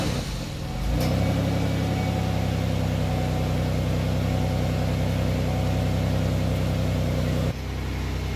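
A car engine cranks and catches near second one, then runs at a steady, loud idle with a deep exhaust rumble after tailpipe work, dropping off abruptly near the end.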